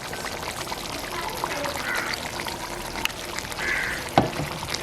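Roasted grated coconut tumbles into a pan of Jaffna-style spicy crab curry, a soft scattering pour with a few light knocks, close and fairly quiet, with no talking.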